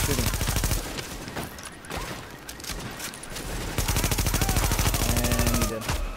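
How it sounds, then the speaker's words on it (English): Rapid bursts of gunfire in the video game Tom Clancy's The Division, dense overlapping shots with brief lulls, loud throughout. "Why are you guys so far away shooting?"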